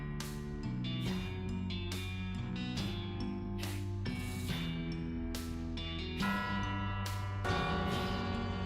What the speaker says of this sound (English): As the eerie sound of the bells fades away